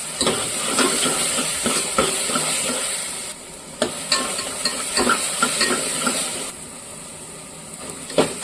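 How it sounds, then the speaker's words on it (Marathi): Red chilli powder, turmeric, black masala and ground paste with crab sizzle and fry in oil as they are stirred, a close steady hiss broken by scraping clinks of a spoon against the pan. "सर्व मसाले चांगले मिक्स करून घेतले"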